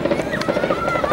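A helicopter flies during a naval exercise for a city day event in Sevastopol, a fairly loud, steady rotor drone with rhythmic pulsing over outdoor crowd ambience.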